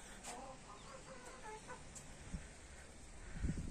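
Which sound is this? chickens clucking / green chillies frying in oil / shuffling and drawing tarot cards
chickens clucking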